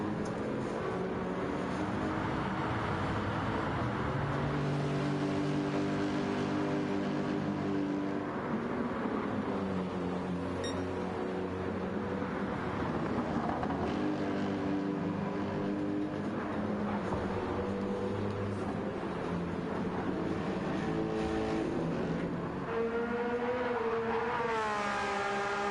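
BMW race cars lapping Brands Hatch, with steady engine drone and tonal revs rising and falling as cars pass, continuous and fairly distant throughout.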